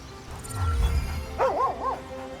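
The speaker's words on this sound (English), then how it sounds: "Oh, I hear a doggy." A dog in the video game Baldur's Gate 3 gives a few short, pitched yips and whimpering barks in quick succession, moderately loud, after a low rumbling thud, with no talk over it.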